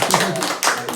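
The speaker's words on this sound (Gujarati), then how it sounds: "તાળી પાડો." A quick burst of hand clapping breaks out at a birthday celebration and lasts about a second, with voices mixed into it.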